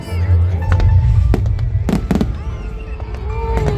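Fireworks boom and crackle in several sharp bursts at an Eid al-Fitr 2025 show in Katara, with a low rumbling background and faint crowd noise in between.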